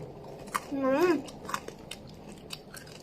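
Someone bites into crispy baked vegetables, including green okra. There is a sharp crunch, a burst of chewing, then a few lighter crackles, heard close up with a brief vocal sound and no clear talk.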